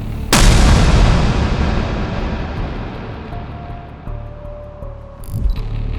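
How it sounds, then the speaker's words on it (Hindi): A sudden, loud plane-crash blast from Germanwings Flight 9525 booms in and then rumbles on, slowly fading with a long low-frequency tail. "और फिर होता है एक ज़ोरदार धमाका"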